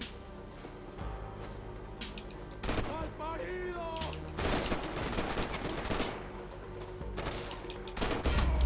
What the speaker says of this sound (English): why were you firing in the air?